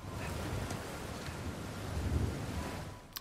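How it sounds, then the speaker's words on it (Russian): Tropical downpour during a storm in the video game Uncharted 4: a steady, dense wash of rain hiss with low rumbling beneath, continuous and fairly loud, with no voices. "Тропический ливень."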